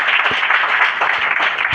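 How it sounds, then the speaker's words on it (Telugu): A church congregation at a Christmas service claps loudly together, producing a thick, continuous burst of applause that fills the room for a couple of seconds. "గట్టిగా చప్పట్లు కొడదామా?"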